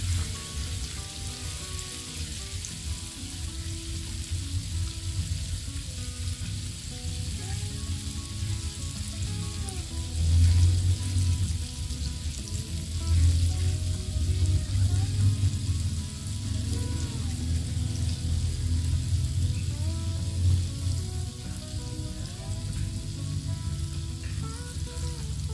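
Nile tilapia pieces frying in hot oil until browned make a continuous loud crackling sizzle that swells in intensity partway through, close up, with no talk.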